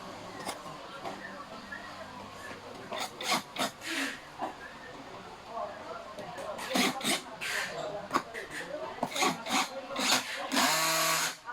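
Screws are driven into the backrest of an executive chair during assembly, giving bursts of close, whirring power-driver and creaking wood-like rubbing sounds in short repeated spurts, with a voice speaking intermittently among them.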